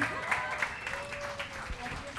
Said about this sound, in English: Can we have one round of applause,